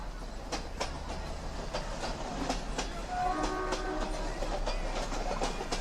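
Trains and locomotives at a railway shed: a steady low rumble with rhythmic clicking of wheels over rail joints, a faint distant horn tone midway, continuous throughout.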